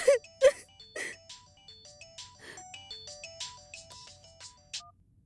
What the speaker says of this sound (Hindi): जानकी फोन नहीं उठा रही है।